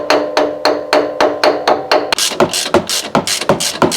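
A metal spanner knocking against the coilover collar on a Nissan 370z's front BC Racing suspension, a steady run of sharp metallic taps that quicken and grow louder, close up with no talking.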